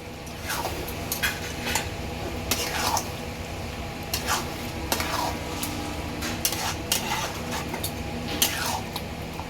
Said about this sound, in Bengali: এবার এই দইটা দিয়ে মাংসটা কষা হবে আবার।